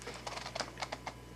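Keys tapped on a computer keyboard with special function keys, a quick run of light clicks at close range, alone with no voices.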